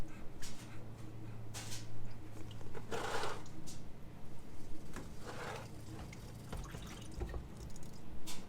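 Transmission cooler fluid from disconnected radiator hoses on a Land Cruiser 100 series drips in a slow, irregular patter with faint splashes, alongside light handling noises and no talking.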